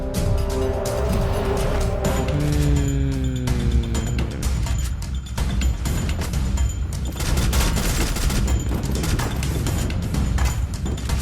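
Rapid bursts of Free Fire gunfire over a dense, steady layer of engine roar and action noise, loud and continuous throughout.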